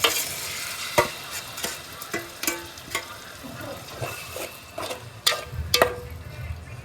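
Onion and tomato fry in oil for a paneer gravy, with a soft sizzle under sharp, irregular spoon knocks and scrapes against the pan.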